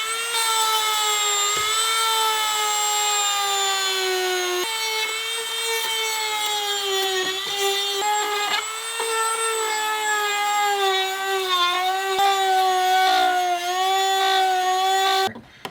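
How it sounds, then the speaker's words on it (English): A Dremel rotary tool fitted with a sanding attachment grinds the plastic edge of a custom cup holder for a third-generation 1982–92 Camaro, a steady high-pitched whine with shifting tones running close and loud for the whole stretch. "So first I'm gonna try a Dremel with just a sanding tool on it"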